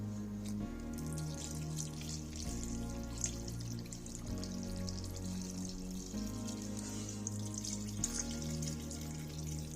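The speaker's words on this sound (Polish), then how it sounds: "Jagnięcinę zalewam wywarem powstałym z kapusty i mięsa." Cabbage and lamb broth is poured over rolled lamb pieces in a pot, a continuous wet splashing and trickling stream against steady background noise, without talk.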